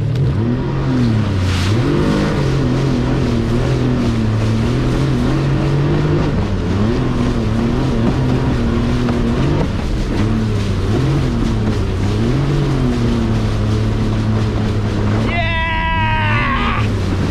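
A jet ski engine whines and surges steadily as it accelerates across the waves of Subic Bay, pitch rising and dipping with the throttle, loud and close, with a voice briefly shouting near the end.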